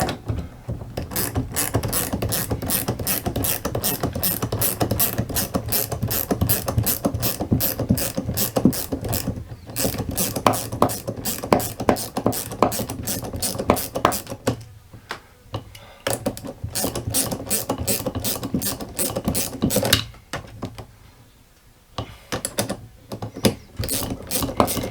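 Ratchet wrench turning a nut, a loud, rapid clicking that runs almost continuously with a few short pauses, close up.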